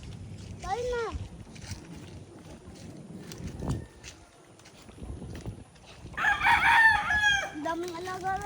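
A rooster crows loudly and close near the end, with a brief fowl call earlier, while people chat and move about nearby at a birthday gathering.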